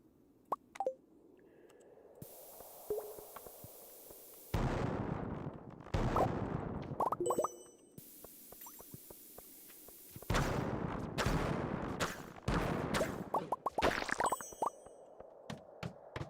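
Bombs go off in a chain reaction in the Skull Cavern of Stardew Valley: loud booming bursts arrive in clusters, one explosion triggering the next, separated by quieter stretches with small pops and knocks.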